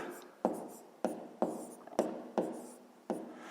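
Pen strokes on paper as a fifth-grade maths solution is written out, six or seven distinct scratchy taps spaced unevenly, faint and close in an otherwise quiet room.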